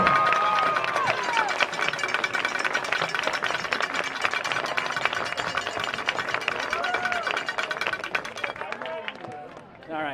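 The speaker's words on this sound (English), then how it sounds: "Norwell fans, let's give these seniors one final round of applause for their contributions to" A large home crowd at a Norwell High School football senior night applauds and cheers steadily for the seniors, dense clapping and crowd noise that holds for the whole stretch before tapering slightly at the end.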